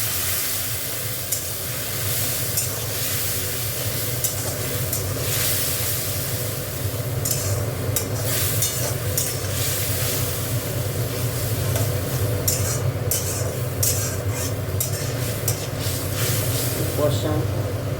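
Spice paste with turmeric and dried chilli frying in a pan for a Bengali tangra fish dish, a steady loud sizzle and hiss with stirring throughout, a voice talking over it.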